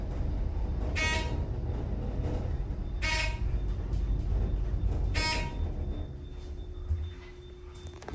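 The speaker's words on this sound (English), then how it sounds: "I wonder what's that beeping noise" Three short harmonic beeps or toots ring out at roughly two-second intervals over a steady rumbling traffic background in a hospital parking garage with Dover Impulse traction elevators, with no talking.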